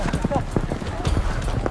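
Horses galloping during a traditional Tajik sheep-grabbing game in a village, with rapid, irregular hoofbeats close by under a steady crowd din and talk.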